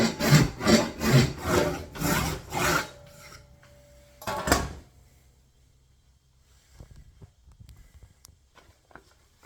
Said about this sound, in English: I'm gonna saw down the middle for the wedge